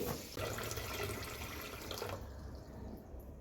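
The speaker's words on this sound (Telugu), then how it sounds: "వాటరు పోసుకోవాలి" Water runs and splashes steadily into a pan for sugar syrup, a close, continuous pouring sound that thins out toward the end.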